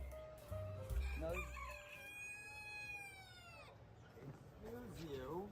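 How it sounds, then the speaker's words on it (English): A bird in a video game lets out a long rooster-like crow, a sustained wavering call of a few seconds, heard near and clear amid game sounds, with people chatting before and after. "Who's the little bird making all that sound?"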